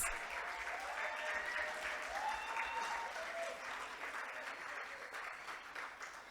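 Sustained applause from a panel-discussion audience welcoming a young guest from Eswatini, dense steady clapping holding at a moderate level for several seconds, with faint voices murmuring underneath.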